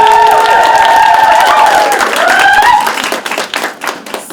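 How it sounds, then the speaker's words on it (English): A festival crowd applauds and cheers loudly, with sustained whoops over dense clapping that thins out into scattered claps toward the end. "Give her a big round of applause"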